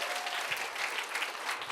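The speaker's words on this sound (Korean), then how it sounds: "박수 한번 쳐주세요." Applause from a church audience during a pastor's lecture, a short burst of even, continuous clapping at moderate volume from a room full of people.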